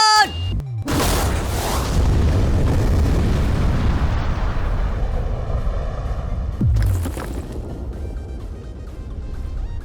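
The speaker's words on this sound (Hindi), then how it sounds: "ये एक असली धमाका है।" A massive booming blast erupts, followed by a long rumbling roar that slowly fades, then a second heavy thump hits.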